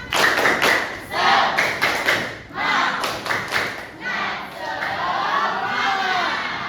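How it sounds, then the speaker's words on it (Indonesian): A school class does a rhythmic cheer clap in an Indonesian classroom lesson, with loud patterned bursts of clapping and thumps mixed with children's shouted chants, repeated in quick sets. "Oke, 1, 2, 3. Tepuk semangat."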